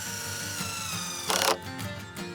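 A power drill drives a long Torx screw into 2x6 wooden boards for a raised garden bed, whirring steadily up close and rising into a brief harder burst as the screw bites, then easing off.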